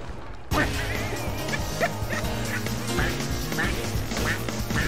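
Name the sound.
duck quacking sound in a video game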